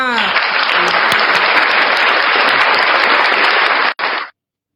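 Loud, dense audience applause at a live Filipino variety show, sustained evenly for about four seconds with a brief break before it cuts off, a voice faintly present underneath.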